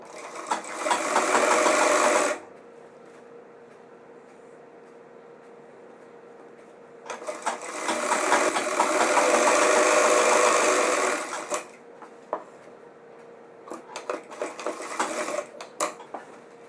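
A sewing machine stitches a belt onto pant-cut men's pajamas, running in two steady close whirring bursts with a quiet hum between them, then a few short stuttering runs at the end.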